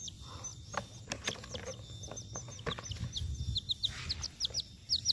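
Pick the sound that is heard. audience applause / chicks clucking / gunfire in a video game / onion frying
chicks clucking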